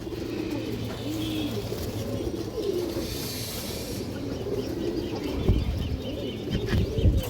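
Large female pigeon of the Palla line, black-tailed, cooing in repeated low rolling phrases close by, with occasional wing flaps and rustling near the end.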